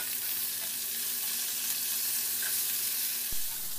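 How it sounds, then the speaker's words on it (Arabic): Chicken frying in a pan, browning on each side, gives a loud, steady sizzle without pause, with one soft knock near the end. "راح نحمر الدجاج على كل جهة من 2 إلى 3 دقائق ألين ما تاخذ لون حلو"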